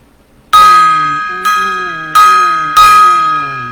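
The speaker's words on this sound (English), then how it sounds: "Gong time here." A metallic gong is struck four times in quick succession, each hit ringing out loud and bright with a long, slowly fading shimmer before the next strike.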